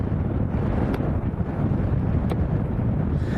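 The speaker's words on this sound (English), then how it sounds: "Yeah, it's very windy as well" Strong crosswind at Lanzarote Airport buffeting a camera microphone, a heavy, continuous low rumble with gusty fluctuations that fill the foreground and mask everything else.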